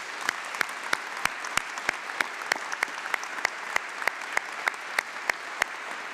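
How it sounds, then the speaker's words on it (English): Sustained audience applause for award winners at a 2017 Maxwell School graduate convocation, a steady dense wash of clapping with regular sharper claps standing out throughout. "Please join me in a round of applause for all of the award winners."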